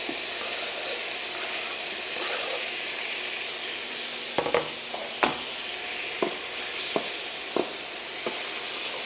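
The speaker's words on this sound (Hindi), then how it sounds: "फिर इसको फ्राई कर लें आप for a couple of minutes" Keema and karela (bitter gourd) frying in a pan, a steady soft sizzle with a few sharp clinks and scrapes of stirring toward the end.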